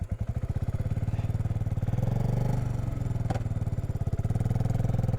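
BSA Goldstar 650 motorcycle pulling away on a mountain road, its engine loud and close with a rapid, pulsing thump that rises and settles, a short clatter partway through and no talk.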